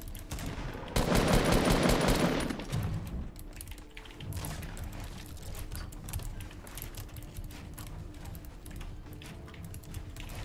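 Rapid bursts of gunfire in Fortnite: Battle Royale, a loud dense volley at first, then quieter scattered shots and rattling in the distance through the rest of the firefight.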